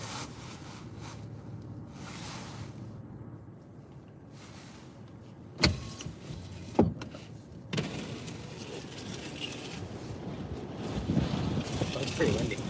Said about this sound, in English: Oh, it's pretty windy.